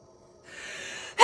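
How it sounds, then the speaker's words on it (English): A single person's sharp sneeze bursts out loud and close after about half a second of hissy, breathy build-up, with nothing else around it. "I have to sneeze."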